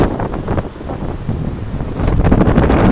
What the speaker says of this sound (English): Block the wind a little bit because it's gusting up 20-25 miles an hour.